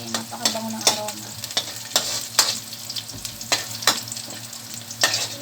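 Garlic sizzling in a frying pan while a spoon stirs it, steady frying hiss broken by repeated scraping stirs, close and moderately loud, before mushrooms and kimchi noodles go in.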